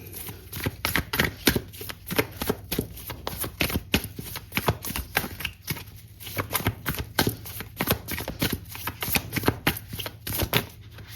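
Tarot cards are shuffled briskly and continuously, giving a dense, rapid patter of papery riffles and slaps close to the listener with no talk.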